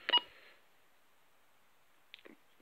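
A Binatone Terrain 550 walkie-talkie gives a short electronic tone burst, then after a pause a quick, fainter two-part roger beep, both crisp and close in an otherwise quiet room.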